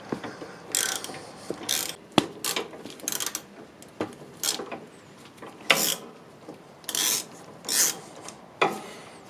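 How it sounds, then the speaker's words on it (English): Wrench ratcheting on a bolt during work on a John Deere X320 riding mower, heard as bursts of quick metallic clicking in several separate runs, close and fairly clear with no talk. "a wrench is required on the upper side, like this"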